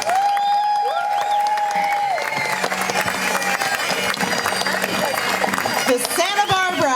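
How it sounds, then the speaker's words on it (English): A street crowd at the 2022 Carpinteria Independence Parade claps, cheers and whoops for veterans, lively and fairly close, with whistles and shouts rising over the applause and a child's high call near the end. "Our veterans, ladies and gentlemen, let's give them a cheer."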